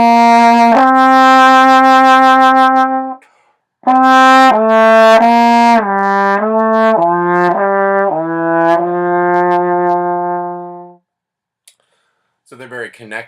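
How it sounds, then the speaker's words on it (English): A trombone plays smooth slurred legato notes, first a long sustained tone, then after a short pause a connected descending run of notes without retonguing, loud and close, with a brief voice at the very end. "I have a trombone here just to demonstrate on a trombone what you would do on a slur."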